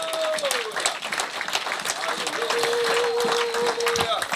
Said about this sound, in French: Acclamons le Seigneur pour sa présence. Très fort pour sa présence.